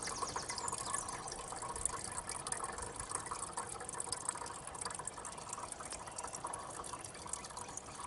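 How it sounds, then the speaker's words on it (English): Water pours steadily into the side tanks of a 7.25-inch gauge GWR 14xx class model locomotive, a continuous close trickling and splashing with small drips, alone with no talk. "fill the side tanks with water completely up"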